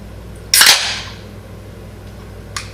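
A large can of Camo Black Ice beer cracks open with one loud, sharp pop and a short fizzing hiss close by, followed later by a faint second click.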